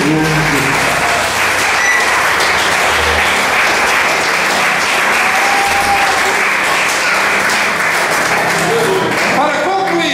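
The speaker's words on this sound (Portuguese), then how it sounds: "Quem quer assim, aplauda o nome do Senhor Jesus." A church congregation applauds during a sermon with loud, dense clapping that carries on steadily for about ten seconds, with voices mixed in underneath.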